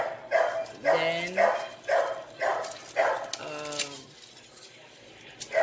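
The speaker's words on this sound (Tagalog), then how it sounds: "pasensya na sa ingay kasi yung aso, nag-ingay siya" A dog barks repeatedly in short bursts, fairly close, with a few whiny yips mixed in and some background noise between barks.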